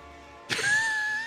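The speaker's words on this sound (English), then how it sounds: "Hey, train!" A Factorio train horn in the game blares suddenly after a quiet hum, a sustained bright tone that holds steadily at moderate loudness.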